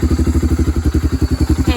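A Honda Fourtrax ATV engine fires up after a kick-start and settles into a loud, close, steady rhythmic chugging with evenly spaced pulses throughout.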